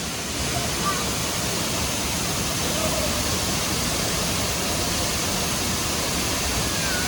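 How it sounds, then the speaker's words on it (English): Looking Glass Falls in Pisgah National Forest, North Carolina, pours in a steady, loud, unbroken rush of falling water close by. "It's a very pretty waterfall."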